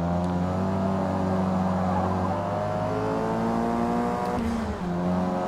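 Race car engine in Forza Motorsport drones steadily at high revs, with shifting harmonic tones as gears change and a brief dip near the end, loud and continuous with no voices.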